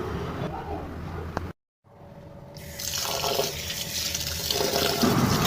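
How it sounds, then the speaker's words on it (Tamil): Water runs and splashes as raw rice is rinsed, a steady rushing pour that cuts out briefly and then swells back louder and fuller. "சேர்த்துட்டு நம்ம ஒரு 3 தடவை நல்லா தண்ணி விட்டு வாஷ் பண்ணி எடுத்துக்கலாம்."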